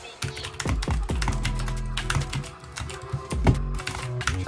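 Quick clacky keystrokes on a Magegee Portable 60% keyboard with blue keycaps, fast irregular taps close to the mic during a Fortnite match.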